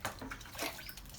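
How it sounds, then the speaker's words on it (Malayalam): Water poured from a vessel into about a kilogram of plaster of Paris powder for a hand cast, a short splashing pour lasting just over a second, close and moderately loud. "അതിലേക്ക് വെള്ളം ഒഴിച്ച് കൊടുക്കുക."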